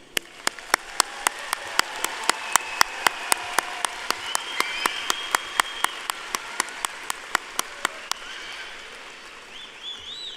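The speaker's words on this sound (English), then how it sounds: "Please join me in a round of applause for our students." Clapping for graduating students at a Palo Alto College commencement comes as a steady, evenly spaced run of sharp single claps over a soft outdoor hiss, with faint bird calls near the end.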